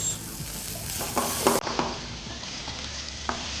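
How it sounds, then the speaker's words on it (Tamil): Diced tomatoes hit a pan of cooked ginger and garlic for a brinjal fish gravy, sizzling steadily close up while a utensil stirs with a few scraping knocks. "இஞ்சி பூண்டு குக் ஆன அப்புறம் டொமேட்டோஸ் ஆட் பண்ணுங்கள். Diced tomatoes."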